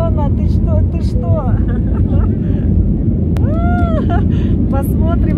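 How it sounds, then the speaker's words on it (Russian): An airliner taking off from Corfu sends a constant, heavy roar through the cabin as engines run at full power, with passengers talking and exclaiming over the noise. "Ой, девчонки, взлетаем наконец-то."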